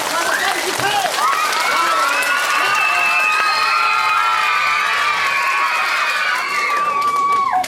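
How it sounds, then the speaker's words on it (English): A crowd of children at a magic show claps loudly and cheers, with shrill shouts and whoops rising over dense, sustained applause. The noise stays loud throughout and tapers slightly at the end, with a brief word spoken. "I want you to clap so loud that"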